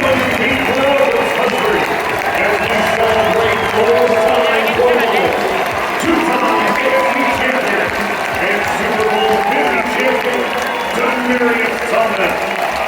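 A large crowd cheering and applauding to celebrate old-time Denver Broncos, a loud, unbroken roar of claps and shouting voices that stays dense and steady throughout.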